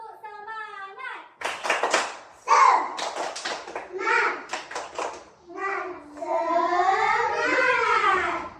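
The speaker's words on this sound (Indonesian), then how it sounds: "kita tepuk semangat ya" Classroom of children doing the tepuk semangat clapping chant, a teacher's voice leading before bursts of hand claps and children's voices chanting together in rhythm.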